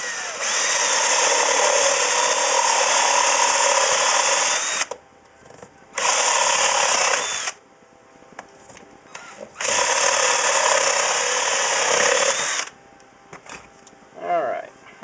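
A saw blade cuts through a wooden box during a resonator ukulele build, giving three loud, whining bursts of cutting separated by short pauses with faint workshop noise between them.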